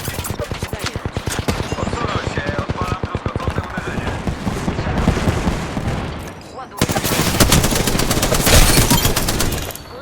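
Dense, rapid automatic gunfire from Apex Legends played on an Xbox Series X, loud and nearly continuous for the whole stretch, with sharp volleys that grow heavier and more intense toward the end.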